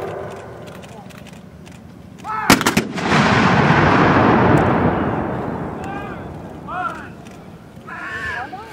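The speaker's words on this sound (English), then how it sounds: "Fire by section, 2 guns at a time." Civil War reenactment cannon battery at a Battle of Shiloh event firing black powder guns by section, two at a time: a sharp loud blast followed by a long rolling boom that fades over several seconds, with distant voices after.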